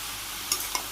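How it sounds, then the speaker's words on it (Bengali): Spices and bottle gourd vegetables sizzle in a pan while being stirred and sautéed, a steady close frying hiss with a couple of sharp scraping clinks from the stirring. "এবার আমি ভালো করে কষিয়ে নিই"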